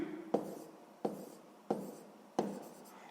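A pen writes an answer in a school maths notebook: four quiet, evenly spaced scratching strokes, each starting with a soft tap, close and isolated.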